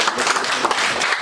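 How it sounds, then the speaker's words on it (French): Audience applause at an African women's day event, a dense, steady wash of many hands clapping through the whole short stretch, fairly loud with no talk over it. "Donc on va applaudir encore Myriam."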